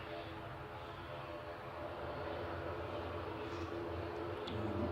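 An Aer Lingus Airbus A330 airliner departs Manchester Airport, its engines a steady distant broadband roar with a faint droning hum, building slightly louder toward the end.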